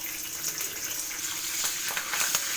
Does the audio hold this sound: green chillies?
yes